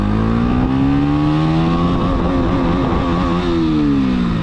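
KTM Duke 125 motorcycle accelerating hard in first gear, a loud, steady engine note whose pitch climbs and holds close by for several seconds, with no talk.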